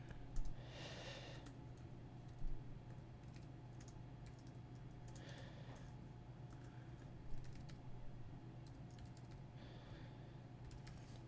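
Steady, quiet clicking of keys on a computer keyboard while commands are typed out during a software setup, with a few louder keystroke bursts over a low hum and no talking.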